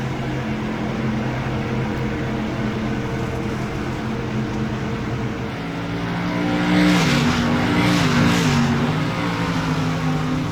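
Race cars in the iRacing simulation at Thunder Road drone along with steady engine hum, swelling louder around the middle as cars close in, then holding at a sustained whine.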